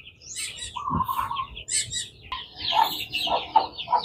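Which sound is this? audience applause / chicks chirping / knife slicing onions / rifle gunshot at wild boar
chicks chirping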